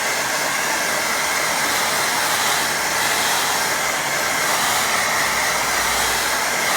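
A hair dryer blows steadily at close range to dry watercolour paint, a loud constant whooshing roar with no pauses and no talking.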